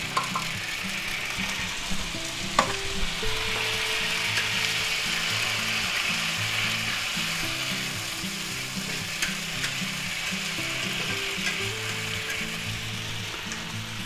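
Two tablespoons of minced garlic fry in hot oil in a skillet, giving a steady, even sizzle close by with a faint occasional clink, and no talking.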